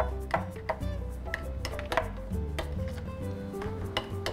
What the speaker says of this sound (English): Just gonna take an ordinary spoon, stir this all together.